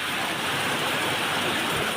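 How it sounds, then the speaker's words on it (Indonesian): Rain mixed with falling gravel and volcanic ash during the Lewotobi Laki-laki eruption in East Nusa Tenggara, Indonesia, a dense, steady hiss of pattering debris filling the whole short stretch with no gaps or voices. "Sedang terjadi hujan disertai kerikil dan debu vulkanik."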